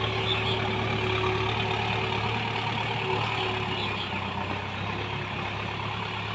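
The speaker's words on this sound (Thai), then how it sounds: "รถไถเจ้าเดิมค่ะ ทุกปีค่ะเจ้านี้" A farm tractor engine runs steadily at a grass field before ploughing, a constant low rumble with a faint whine, loud and close throughout with no talk.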